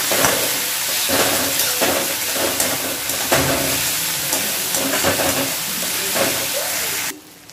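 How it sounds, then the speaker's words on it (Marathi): Veg hakka noodles sizzle steadily in a hot pan after red chili sauce and soy sauce go in, a loud continuous frying hiss with scraping stir strokes that cuts off abruptly near the end; no talking. "1 चमचा भरून रेड चिली सॉस आणि 1 चमचा सोया सॉस मी घालत आहे आणि ते पण छान मिक्स करून घेत आहे"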